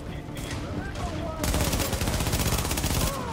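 MP7 submachine gun in The Division, heard as a sustained rapid burst of automatic fire that starts partway through and stays loud and dense to the end, with a voice over it.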